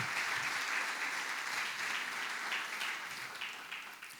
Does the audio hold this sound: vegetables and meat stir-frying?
no